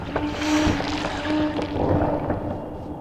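A plant in the video game Myst III releasing spores, heard as a soft rushing, airy whoosh with faint creaks and watery textures, swelling and fading over a few seconds without speech.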